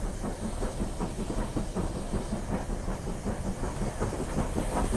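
A steam locomotive, a BR Standard class engine with its regulator opened, chugs steadily with rhythmic exhaust beats and a constant hiss, loud and close, with rail clatter underneath.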